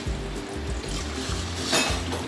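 Mineral water pours steadily into a cooking pot holding chicken and turnip, a continuous close splashing and gurgling with no voices.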